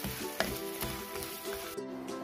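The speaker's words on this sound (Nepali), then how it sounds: "एक चम्चा घिउ हाल्दै अब एक कचौरा गुड पनि हाल्दैछु गुडलाई चाहिँ यसरी चलाउनुहोला" Jaggery melting in ghee and being stirred in a pan gives a steady soft sizzle with occasional scraping stirs, faint and continuous, with no voices.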